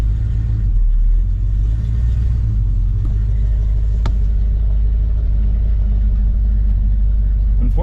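A 1972 Chevelle with a leaking brake booster rumbles along on its first drive after more than twenty years off the road, a steady loud engine drone heard from inside the car.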